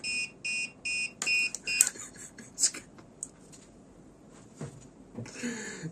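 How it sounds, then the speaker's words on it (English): A machine gives a series of sharp electronic beeps, four evenly spaced near the start, then scattered clicks and a brief buzz later, fairly faint in a quiet room. "Beep, beep, beep."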